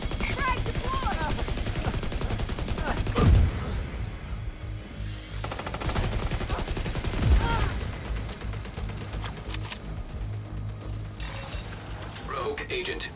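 An automated turret fires in The Division 2 in bursts of rapid gunfire, loud and dense, with sharp impacts and other combat noise layered over and under speech-like chatter.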